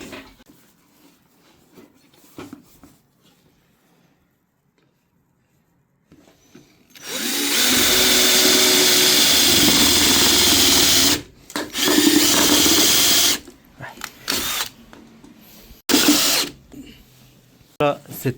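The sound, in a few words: power screwdriver screwing roller shutter inner cover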